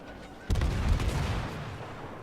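Naval guns firing armor-piercing shells from the cruiser Belfast in World of Warships: one sudden, heavy, booming salvo that rumbles and fades over the next second or two, with no talk over it.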